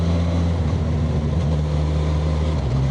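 A Suzuki Katana motorcycle engine drones steadily in second gear while riding a winding mountain road. The loud, continuous hum is mixed with rushing wind noise and has no talk over it.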